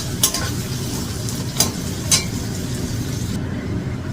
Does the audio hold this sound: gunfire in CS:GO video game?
no